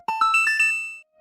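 A quick run of bright synthesized notes from Hyper Light Drifter's chest-appearing sound climbs upward and ends on a sustained ringing chime, clean and close, lasting about a second.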